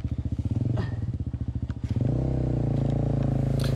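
Yamaha TTR 250 trail motorcycle runs close by off-road, a pulsing single-cylinder engine thump that rises into a steady, louder drone as the rider opens the throttle.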